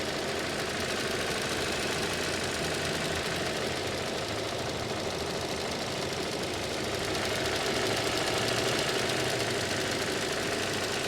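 The 2-liter engine of a 2025 Toyota Corolla Cross with a CVT runs steadily under the hood. A dense, even mechanical drone and hiss hold at constant level throughout, with no talk.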